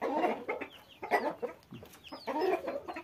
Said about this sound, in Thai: ไก่ชนมีหลายตัวครับนี่ครับมีตัวหนึ่งเราดูอีกตัวหนึ่ง